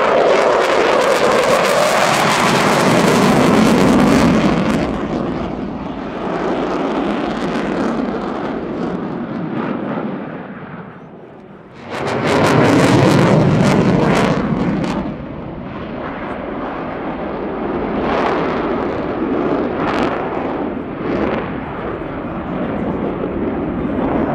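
An RAF Eurofighter Typhoon jet roars through display manoeuvres at an air show, its loud engine thunder swelling, fading briefly, then surging again with crackling rumble as it passes, heard from the crowd line.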